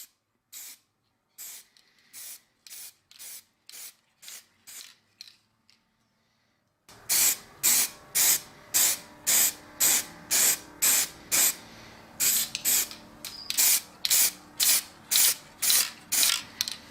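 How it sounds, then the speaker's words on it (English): Clear coat is sprayed from an aerosol can over matte black paint on a restored axe in short repeated hissing bursts, sparse and quieter at first, then louder and in quicker rhythm after a pause. "I'm going to put a clear coat over the top of it."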